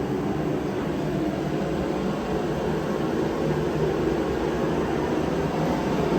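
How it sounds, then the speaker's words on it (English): A space heater runs with a steady, even whooshing hum that never changes, close by, with no voices. "It's a little bit noisy because I got the heater going."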